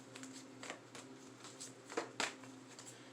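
Tarot cards being shuffled by hand, a few soft riffling bursts and papery slaps, with one sharper flurry near the middle, quiet and close.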